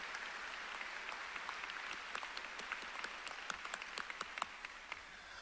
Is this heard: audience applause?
yes